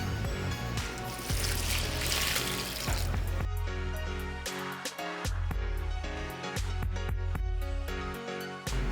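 Water splashes and runs from a tap into a batch of high-strength concrete mix for stepping stones, a loud close gushing for a few seconds that gives way to intermittent trickles and splashes with no talking.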